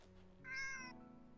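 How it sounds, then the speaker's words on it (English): A cat gives one short, clear meow right in front of the microphone, close and distinct over a faint background hum from a Final Fantasy XVI session. "sitting right in front of me to meow at me"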